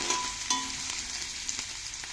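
Two medium onions, cut into square pieces, fry in a pan for a wet murmure breakfast, giving a steady close sizzle with a few sharp clicks from stirring and no voices present.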